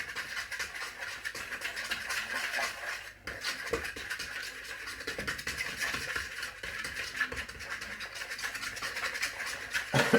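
Liquid boilie flavouring being stirred for carp fishing bait, a continuous soft scraping and rubbing of a utensil in a container, steady and close, with no voices.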